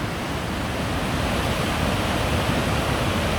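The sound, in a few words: Attikongas waterfall in taiga forest, Finland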